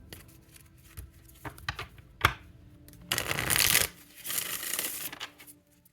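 Oracle deck cards are shuffled by hand in close, soft riffles and rubs, building to a longer dense burst of rustling card flicks near the end.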